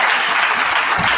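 A church congregation breaks into steady, dense applause, a close crowd clapping continuously for about a second with no pauses.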